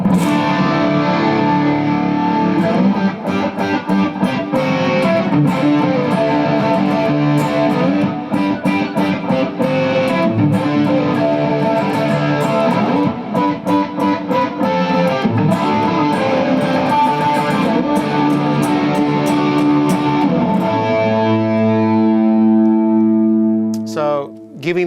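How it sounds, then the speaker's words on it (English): Electric guitar through Lone Star amps with a TC chorus effect, playing a sustained, thick and widened part with layered distorted tones, loud and continuous before thinning into clean ringing notes near the end. "adding a bit of chorusing from the TC on the Lone Stars to kind of spread that signal"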